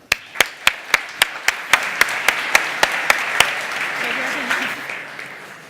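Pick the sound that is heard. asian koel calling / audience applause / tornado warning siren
audience applause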